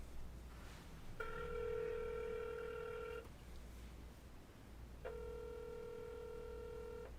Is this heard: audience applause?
no